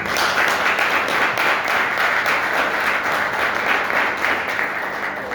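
A seminar audience applauds its guests, loud, dense and sustained, the clapping holding at an even level from start to finish.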